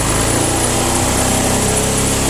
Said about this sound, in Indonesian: kita gas pelan-pelan